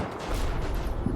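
An anti-tank gun fires in a World War II German war game, a heavy booming blast with a rumbling tail. A muffled thump or two follows, and no one talks.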